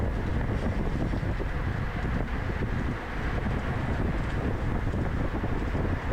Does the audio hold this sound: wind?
yes